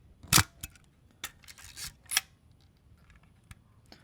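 A Zenit EM film SLR camera body fires its mechanical shutter several times in turn, giving sharp metallic clacks at irregular gaps. Some clicks come as close double snaps and others are lighter, all close up with no talk.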